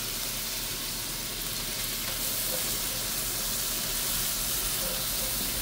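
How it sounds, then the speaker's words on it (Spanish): Onion and chili pepper sautéing in a pan for chicken fillet in jalapeño sauce: a steady, loud, even sizzle with hissing steam that runs throughout, no voices. "Ahora vamos a sofreír la cebolla"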